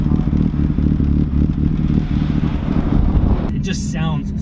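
A loud tuned Mazda Miata engine with aggressive cams idles unevenly with a choppy, lumpy rumble throughout, then a voice speaks briefly near the end as the engine keeps running.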